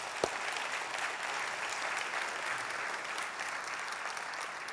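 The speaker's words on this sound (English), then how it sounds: "Let's give them a big round of applause" An audience at a State of the City address claps in sustained, even applause, a thick steady patter of many hands with one sharp knock near the start and no voices on top.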